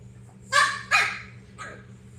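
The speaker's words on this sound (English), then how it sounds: "just letting the dogs just play" French Bulldogs playing indoors in a living room, giving two sharp close barks in quick succession followed by a fainter third yelp, over a low steady hum.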